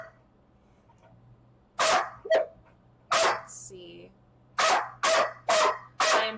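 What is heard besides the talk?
dog barking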